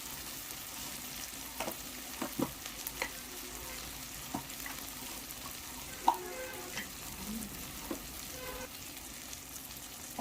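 Spice masala with salt and turmeric frying in a pan for a Bengali rohu and pointed gourd fish curry, a soft continuous sizzle with scattered scraping stir strokes, fairly quiet and close.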